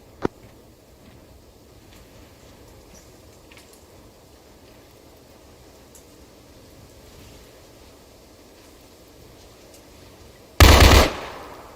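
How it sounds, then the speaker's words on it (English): A single loud, abrupt burst of gunfire rips out in the military simulation game Arma 3 after a long stretch of quiet ambient background, lasting about half a second and sounding close. "just returning fire"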